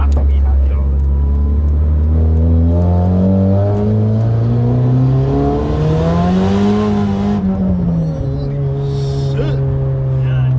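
A Nissan S15 accelerates hard on the road, its engine note climbing steadily in pitch through several seconds of revving before a gear change drops it back down, loud and close, with the rising whine dominating the scene.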